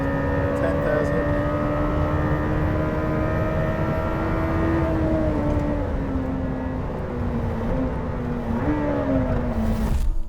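A 907bhp Lamborghini Temerario hybrid super sports car sweeps through a long right-hander on track, its engine note climbing steadily with high revs, then dipping and rising again near the end, loud and continuous under a driver's voice.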